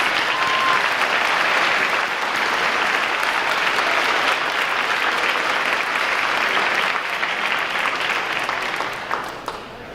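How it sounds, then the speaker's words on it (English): Sustained applause from an audience at an 8th grade awards ceremony fills the hall at a steady, loud level, thinning slightly and tapering in the last second. "one last round of applause"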